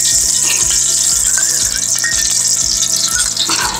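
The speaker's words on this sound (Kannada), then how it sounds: "ಆ ಪಾತ್ರನ ಇಟ್ಟು ಅದಕ್ಕೆ ಒಂದು 2 ಸ್ಪೂನ್ ತುಪ್ಪ ಹಾಕಿ" Ghee heats in a cooking pan while ragi manni is being made, giving a loud, steady sizzling hiss with soft scraping stir sounds throughout. No one speaks.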